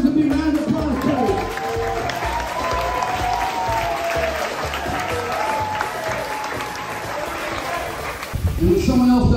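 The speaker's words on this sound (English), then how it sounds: "let's give the coaches a big round of applause, please." Stadium crowd applauding coaches at a school event, a dense, loud wash of clapping that holds steady throughout under music, with a brief pickup near the end.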